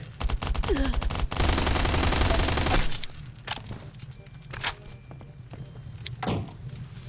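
Rapid bursts of automatic gunfire in the survival video game Last Island of Survival crackle loudly for about three seconds, followed by scattered single shots and softer footsteps-like thuds.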